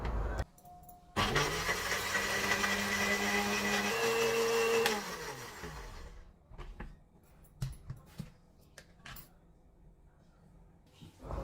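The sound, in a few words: blender blending soaked cashews with yogurt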